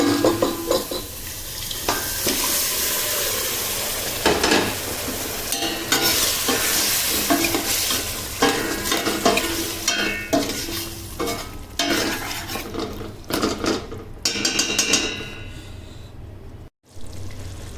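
Meat in masala frying for a Malabar-style kappa biryani, with continuous loud sizzling and frequent scraping stirs of a spoon against the pan, no voices.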